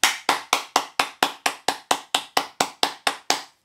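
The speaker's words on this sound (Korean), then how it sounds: "박수." Hands clap in a steady, evenly spaced rhythm during a poetry-writing lecture, about fifteen sharp, close claps in a row with nothing else heard between them.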